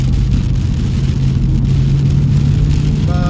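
Heavy thunderstorm rain drumming on a moving Subaru flat-six car on a mountain road, a steady close hiss over the constant low engine and road drone.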